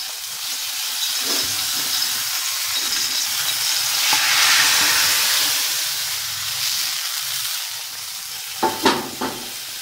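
Cumin seeds tempered into kadhi in a clay pot give off a loud, continuous hiss and sizzle that swells and then settles. A few sharp clinks or scrapes come near the end.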